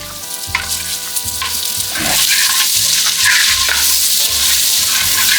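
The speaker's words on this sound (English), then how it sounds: "I'm going to use a half a stick of butter. We're going to let that melt." Butter, half a stick, melting with olive oil in a hot pan, giving a steady, loud sizzle and crackle that intensifies partway through, with occasional soft clinks and no talking.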